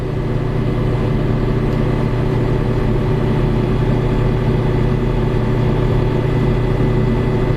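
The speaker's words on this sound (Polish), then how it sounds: "zwiększam sobie obroty. Jest około 1200 obrotów." Diesel engine of a JCB 532-70 telehandler held at about 1200 rpm, heard as a steady, loud, continuous low drone with a constant mechanical hum and no variation throughout.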